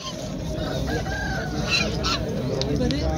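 A rooster crows amid the dense, constant crowd noise of the Havelian livestock market in Pakistan, its call rising above a busy wash of voices and animal sounds.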